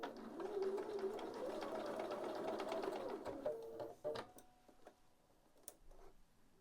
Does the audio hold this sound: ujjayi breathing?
no